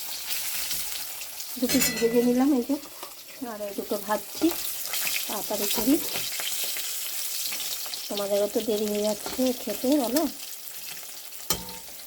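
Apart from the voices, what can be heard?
fish frying in oil in a wok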